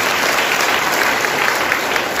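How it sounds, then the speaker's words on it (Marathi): An audience claps loudly and steadily at a home-remedy health lecture, a brief burst of dense applause filling the room close by, with no speech over it. "खरोखर एकदा जोरदार टाळ्या वाजवा"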